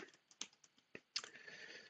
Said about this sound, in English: not very good at typing when I'm being watched in here as well